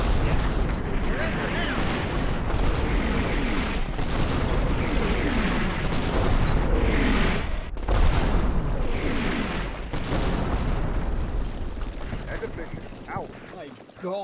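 Mortar explosions in a video game battle, repeated heavy booms and rumbling blasts layered thickly over a constant roar of combat noise, with a sharp crack partway through and possible voices mixed in.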